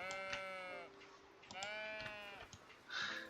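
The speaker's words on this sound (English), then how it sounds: "Another sheep. Hi, sheep." Sheep bleat in the cozy building game Tiny Glade, two long wavering calls close by with a softer chirp of a bird near the end, over a quiet background.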